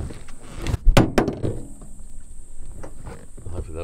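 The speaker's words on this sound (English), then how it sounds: "Unlock this door and push it out." A door on a VW Crafter 4Motion camper van is unlocked and pushed open, making a few sharp close clunks and latch knocks, then a softer rattle as it swings out.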